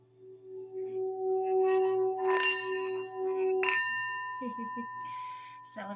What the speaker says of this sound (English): prepare to return to the moment as I ring my bell.